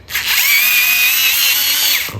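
A Lotus 3.6V LTDR4XP cordless smart screwdriver set to torque 1 runs in one continuous close, loud whirring buzz for about two seconds, steady in pitch before cutting off, with no speech.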